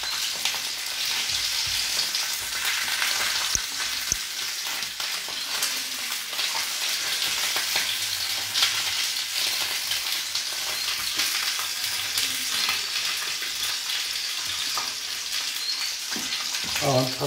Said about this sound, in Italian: non la metto direttamente nella pentola grande, ma la vado a friggere